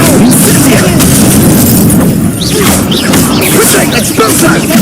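Repeated Incendio fire spell blasts in Hogwarts Legacy, loud bursting booms and whooshes packed close together over continuous combat noise, with a voice calling out spell names throughout.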